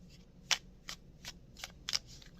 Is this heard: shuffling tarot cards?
yes